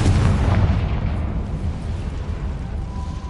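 A Confringo fire spell explodes in Hogwarts Legacy, a loud, deep boom right at the start that rolls out into a long rumbling decay over the next few seconds.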